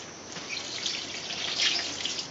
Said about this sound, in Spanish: Y echamos el litro de agua